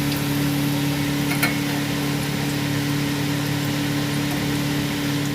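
Onions fry in hot oil for a Punjabi dhaba-style rajma masala, giving off a steady, even sizzle with a low background hum that runs unbroken the whole time, with no talking.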